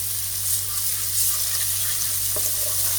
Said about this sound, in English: Add ginger and garlic paste and fry it.